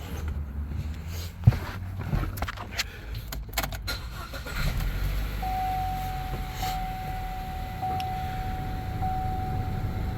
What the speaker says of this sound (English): I'm going to crank the car now guys and let it run